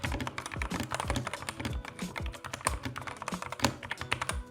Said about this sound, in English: Let me go ahead and do a quick sound test with this keyboard.